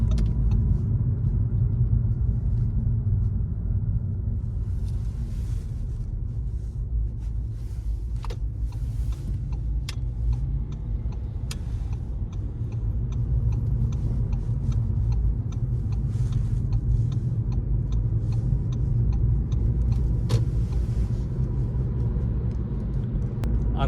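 A Volkswagen Golf 7 1.4 TSI ACT Highline drives along with a steady low engine and road rumble from inside the cabin, accompanied by a few faint ticks and clicks.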